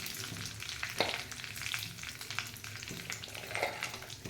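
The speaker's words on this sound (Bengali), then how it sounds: "এই তেলের মধ্যে আমি তেজপাতা দিয়ে দেবো, আর গরম মশলা দিয়ে দেবো।" Bay leaf and whole garam masala sizzle in hot oil for a dhaba-style chicken curry, a close crackling fry with a few sharp pops and light stirring.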